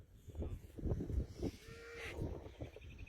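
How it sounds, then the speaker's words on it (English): Calves in a pasture give a drawn-out moo over a low, rumbling outdoor background, with a few softer calls scattered around it. "Here comes the calves."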